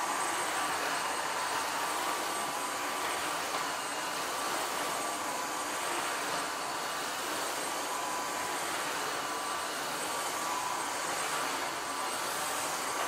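A Tineco Floor One S5 Combo wet-dry vacuum runs at a loud, constant whirring drone while it sucks up spilled cola from a floor, with the same steady level throughout.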